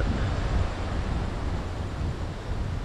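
Gusty wind ahead of an approaching typhoon blows in a steady, rushing roar with slight swells, buffeting the microphone; no voices.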